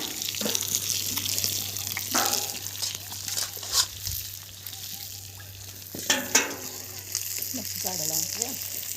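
Fish fries on an iron griddle set over a wood-fired stove, making a continuous crackling sizzle with a low steady hum and brief faint voices in the background.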